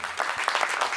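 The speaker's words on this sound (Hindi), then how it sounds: "बात समझ में आ रही तो एक बार ताली बजाओ।" A brief burst of clapping from a comedy show audience, several loud hand claps packed into about a second.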